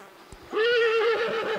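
A horse neighs loudly and close by in one long, shaking whinny, preceded by a couple of soft thuds.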